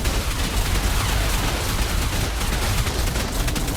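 Dense, continuous turret fire from a video game, a rapid blur of overlapping shots and blasts that stays loud and unbroken with no pauses.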